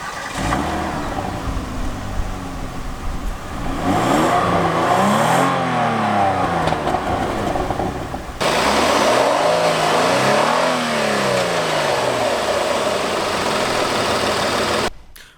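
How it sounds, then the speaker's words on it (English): A 2016 Kia Cadenza's all-aluminum V6 engine turns over and settles into a loud idle, then revs up and down twice in rising-and-falling sweeps before cutting off abruptly. "let's start up the engine so you can listen to that."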